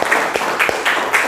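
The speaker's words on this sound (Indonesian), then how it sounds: "tepuk tangan untuk kalian semuanya" A school class claps together in a brief, steady burst, the hand claps landing in a loose rhythm of about four beats in a classroom.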